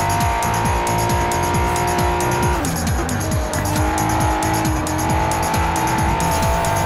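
Acura NSX sports car cornering hard with full-downforce aero and traction control off, a loud engine revving through rapid gear changes while the tires squeal through the turn, close and continuous.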